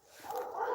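Dogs yipping and whimpering at a distance, a brief, fairly faint burst of excited canine calls from a pack of about ten dogs gathered up the way.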